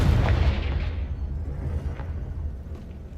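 A Confringo spell explosion in Hogwarts Legacy lands as one loud, deep boom at the start. It then rumbles and fades over about three seconds, with faint crackling debris in the tail.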